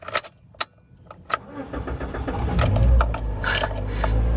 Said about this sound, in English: That's a problem with the starter.